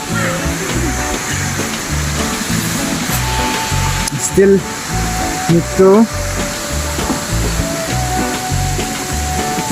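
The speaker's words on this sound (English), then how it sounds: "And then you can hear the sound, it's like waterfall, it's too heavy sound." A heavy waterfall roars nearby at Lang-voku Waterfalls in Diphu, Karbi Anglong, India, a continuous broadband rush with people speaking over it.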